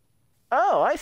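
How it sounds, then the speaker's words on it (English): A single short, wavering sheep bleat from a video game sounds loud and close, breaking out of near silence. "I'm gonna get ready and get that other sheep."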